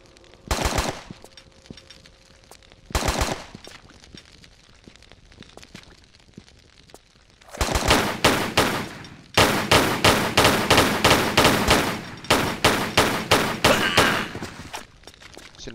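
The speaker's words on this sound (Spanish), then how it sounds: "Si no me disparas, yo te disparo a ti." Bursts of rapid automatic gunfire in the Tomb Raider video game, two short volleys then long sustained firing, loud and sharp with brief pauses between strings of shots.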